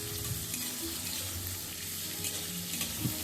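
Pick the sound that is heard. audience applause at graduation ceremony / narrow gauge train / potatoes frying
potatoes frying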